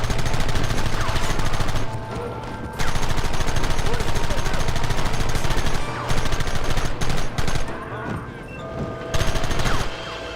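Dense, loud gunfire from the Red Dead Redemption video game, with rapid overlapping shots and bursts nearly continuous over the whole stretch and brief lulls between volleys.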